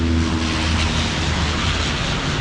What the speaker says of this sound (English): Oh, that's a plane in the skies of Nairobi city